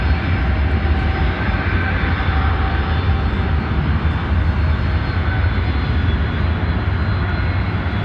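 A jet airliner's engines roar at O'Hare airport in Chicago, a loud, steady, broadband rumble with a constant whine that holds without letup for several seconds, close by and dominating the scene.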